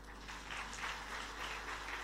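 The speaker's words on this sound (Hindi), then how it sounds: "आपने ताली तो बजाई" Applause from an audience at a Hindu religious discourse in Auckland, New Zealand, a soft, steady patter of many hands that sounds distant and faint, with no talking over it.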